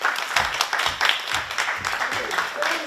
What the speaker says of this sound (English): Without further ado, let's have a big clap.